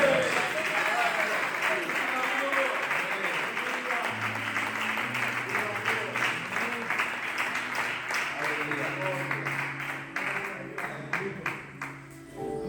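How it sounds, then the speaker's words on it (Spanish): Steady applause from a church congregation, dense clapping that continues throughout, with a low sustained tone and voices underneath, fading slightly near the end. "¿Cuántos dan un aplauso a este Rey de Reyes?"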